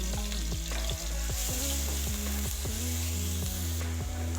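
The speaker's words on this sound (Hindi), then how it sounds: "इसको हम इसमें डाल देंगे और इसको हल्का सा फ्राई कर लेंगे।" Steady sizzling of onion and garlic frying in a hot pan for daal mash, with faint stirring and clinks underneath, continuous and close.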